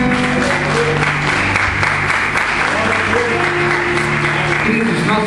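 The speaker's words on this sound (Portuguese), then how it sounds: "Aplauda o Senhor pela vida deles." A church audience applauds steadily and densely, with music or voices faintly underneath throughout.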